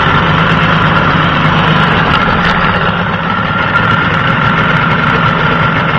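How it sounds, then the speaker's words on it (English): A 1986 Tohatsu 18 HP tiller-control outboard motor idles steadily and close, a continuous even engine drone with light vibration and no break throughout. "Nice running outboard."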